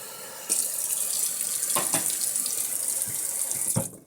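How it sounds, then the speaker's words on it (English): Tap water pours steadily into a sink, a loud close rush with a few clinks and knocks along the way. "Just running some water."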